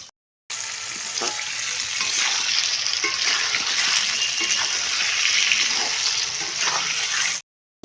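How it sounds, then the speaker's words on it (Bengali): Potatoes frying in mustard oil in a pan for a meat curry, giving a steady, loud, continuous sizzle with occasional stirring clinks, no voices. "এখন দিয়ে আলুটা ভাজা করি"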